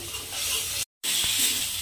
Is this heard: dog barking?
no